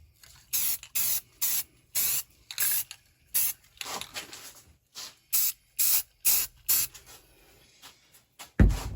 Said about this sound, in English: time to put a coat of paint on it